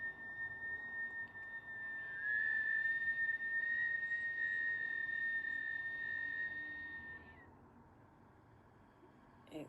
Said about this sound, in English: Inhaling, whistle breath,